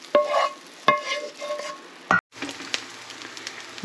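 Shrimp stir-fried with a utensil in a pan for glass noodles with bok choy, a few sharp scraping strokes and clinks over a soft sizzle, with a brief break midway.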